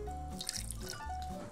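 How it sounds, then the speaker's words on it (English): Water poured into a homemade snow mixture for a kids' science experiment, a short close splashing trickle into a container with no one talking. "Pouring the water in."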